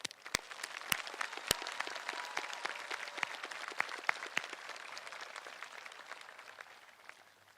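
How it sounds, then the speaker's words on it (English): A high school graduation audience applauds the staff: scattered, fairly distant clapping across a large space, with a few sharp individual claps standing out early before the sound gradually thins and tapers off. "Please join me in giving our staff a round of applause."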